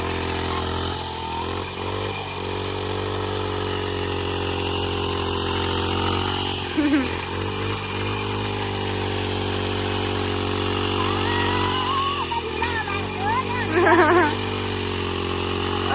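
An engine-powered grass cutter trims grass outdoors, its motor holding a steady, loud drone with slight shifts in pitch throughout, and brief voices come through underneath.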